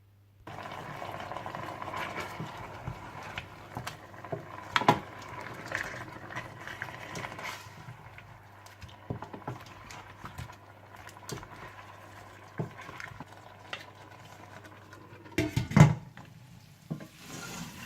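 Mutton chops simmer in water in a karahi, a soft continuous bubbling and light sizzle with occasional clinks and stirring knocks, no speech.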